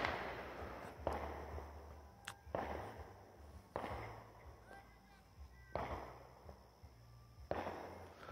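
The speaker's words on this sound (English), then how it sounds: "Someone else is shooting fireworks in that direction" Several sharp bangs of distant fireworks pop at irregular intervals around the Fourth of July, over a low steady rumble and faint background voices.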